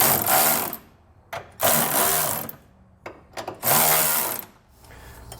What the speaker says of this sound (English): we can evenly tighten up our U-bolt nuts